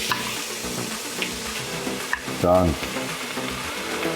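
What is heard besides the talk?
sofrito frying in butter and olive oil, stirred with wooden spoon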